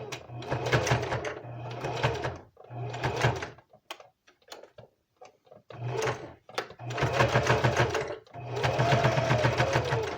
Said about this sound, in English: when I'm doing parts like this in the sewing, I don't try to push my machine too hard